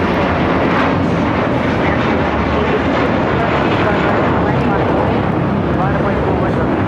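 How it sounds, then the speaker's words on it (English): American Airlines Airbus A321 taking off at LAX, a loud continuous jet engine roar filling the air, with voices talking beneath it. "This is American Airlines Flight 4 taking off to JFK on an Airbus A321."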